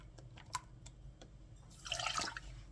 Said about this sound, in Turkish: Bir su bardağı şekerimi ekledikten sonra 4 su bardağı süt koyuyorum